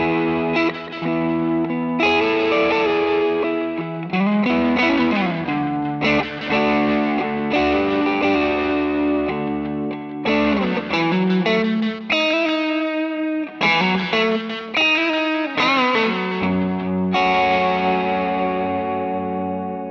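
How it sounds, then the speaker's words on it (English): Electric guitar played through a Tube Screamer overdrive pedal into a clean blackface-style Fender amp, with sustained single notes and chords ringing loud and continuous, lightly driven, with no talking over it. "the Tube Screamer is definitely nice to fill out those kind of voids that a typical kind of blackface style Fender would have"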